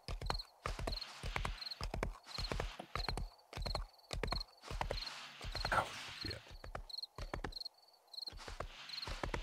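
Horse hooves clip-clopping in the 7 Days to Die video game with a Wild West mod, a rhythmic series of sharp, close hoofbeats in repeating bursts, briefly pausing near the end before resuming.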